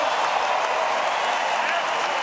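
A boxer applauding his opponent after a heavyweight boxing match, a steady wash of arena clapping and crowd noise that holds evenly throughout, moderately loud.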